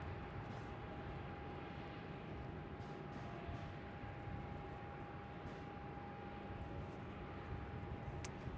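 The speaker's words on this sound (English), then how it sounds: "We got a 4-burner about to touch down on 27." A four-engine airliner touches down on runway 27 at Melbourne Airport, heard as a steady, distant broadband roar with a faint sustained whine that holds level throughout.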